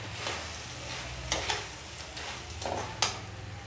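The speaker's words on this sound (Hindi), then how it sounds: "अब इसको फ्राई कर लेंगे।" Puffed rice (laiya) tossed in a hot pan with spices for chaat, giving a soft steady sizzle broken by several scraping stir strokes, close and alone.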